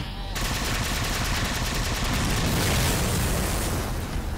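Rapid gunfire fills a Halo Spartan Ops match, with dense, loud, overlapping shots and booms. It runs continuously throughout with no pauses and no speech.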